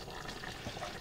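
Cooked chicken pieces tossed into a pot of nearly done noodles in water, a soft wet splash and liquid churn over about a second, quiet and close.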